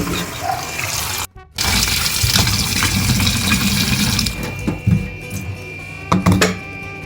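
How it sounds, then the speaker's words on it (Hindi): Tap water running and pouring into a container to soak grapes, a steady splashing flow that cuts out briefly, then resumes and ends in a few sloshing clatters. "इनको हम थोड़ा पानी में डाल के रखेंगे"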